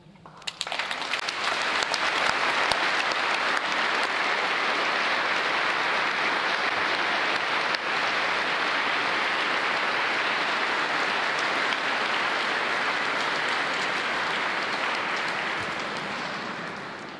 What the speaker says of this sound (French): les applaudissements que vous venez d'entendre